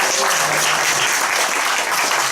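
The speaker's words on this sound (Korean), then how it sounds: "다시 한번 여러분들 박수가 있어요" A church congregation at a worship service applauding after a chorus performance, dense continuous clapping at steady loudness throughout, without voices on top.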